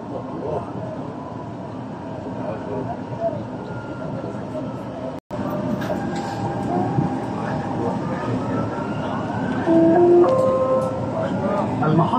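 A Dubai Metro train runs with a steady, loud rumble and hum inside the car, and a brief dropout midway. Recorded onboard announcements speak over the noise.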